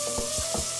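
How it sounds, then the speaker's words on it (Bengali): Chopped onion and bay leaf sizzle steadily in hot ghee in a pan, with a few quick stirring scrapes over the continuous close frying hiss. "ঘিটা গলে যাওয়ার পর আমি এটাতে তেজপাতা এবং ফ্রিজিং পেঁয়াজ কুচিটা দিয়ে দিচ্ছি।"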